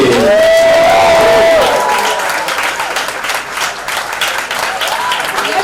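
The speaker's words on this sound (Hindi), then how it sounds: "जोरदार तालियां होनी चाहिए" Loud applause from a large crowd at a college festival in Mumbai, with cheers and whoops rising over the clapping, continuing steadily throughout.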